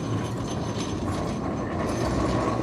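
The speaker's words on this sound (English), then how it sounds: "Tell you what, the tram is absolutely packed." Packed Blackpool tram rolling past, a close steady rumble with faint rattling and clanking throughout the short stretch.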